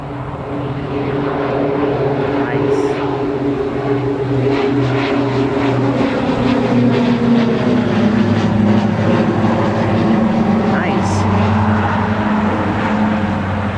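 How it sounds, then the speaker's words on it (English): EasyJet airliner on final approach to Newcastle Airport, a loud continuous engine roar and hum that holds steady throughout with no voices. "EasyJet is on finals."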